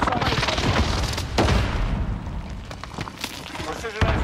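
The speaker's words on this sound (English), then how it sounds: "airstrike missed" Airstrike explosions rumble in a shooter video game: heavy booms and crackling blasts follow one another in quick succession, loud and close, with people talking over them.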